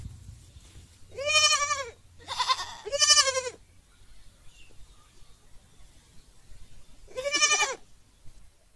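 Four loud goat bleats, three in quick succession and then one more after a quiet pause, close and clear against a faint background.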